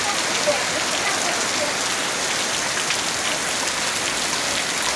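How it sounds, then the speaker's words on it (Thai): Steady rain pouring down outdoors, a dense, even hiss of drops striking surfaces that fills the whole stretch at a constant, fairly loud level with no gaps. "ฝนตก"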